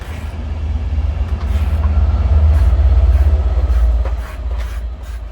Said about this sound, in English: Another train going past.